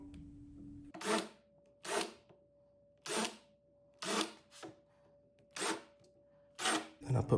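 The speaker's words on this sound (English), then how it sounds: "Now I'm gonna countersink them." Seven short drill bursts countersinking screw holes in wood come at a steady pace, about one per second, each rising and falling quickly. The sound is close and no one speaks.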